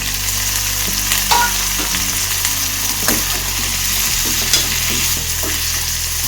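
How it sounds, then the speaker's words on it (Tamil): Curry leaves and tomatoes sauté in a pan for a spicy tomato chutney, with a loud, continuous close-up sizzle, occasional stirring scrapes and a low steady hum beneath. "இப்போ கருவேப்பிலை கொஞ்சம் போட்டுட்டு தக்காளியும் போட்டுடலாங்க. இதில் எல்லாம் சேர்ந்து வதங்கி வந்துக்கும்."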